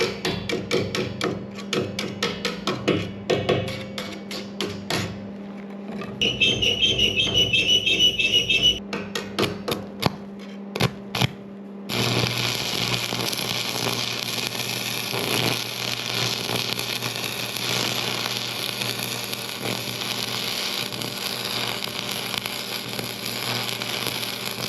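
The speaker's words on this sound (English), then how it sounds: "this is the old stick welder now over here at Jim's" An old stick welder welds metal corral panels on a ranch: a run of sharp metallic taps and knocks, then a steady, loud crackling arc hiss that carries on without a break.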